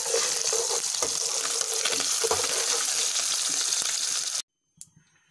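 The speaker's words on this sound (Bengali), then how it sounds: "মাছ আমার ভাজা হয়ে গেছে দেখেছেন। এবার আমি মাছটা তুলে নেব।" Fish frying in oil in a pan, a steady close broadband sizzle with occasional spits that runs continuously and then cuts off abruptly, leaving near silence with a faint clink.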